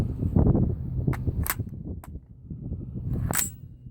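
A Radical Firearms AR pistol firing PPU brass ammunition gives a few sharp, distant-sounding cracks spread over a few seconds, set against low background rumble.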